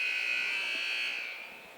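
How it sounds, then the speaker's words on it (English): Basketball game buzzer sounding between quarters at the Richland vs Van Buren game: one sustained, piercing electronic blare held for over a second before it tapers away. "There's the buzzer."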